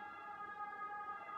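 An ambulance siren wails steadily, with a fairly close, sustained tone that holds at an even level with no talking over it.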